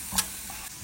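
Chana masala spice powder roasts in a pan with a brief quiet sizzle and one short scrape of stirring, fairly faint.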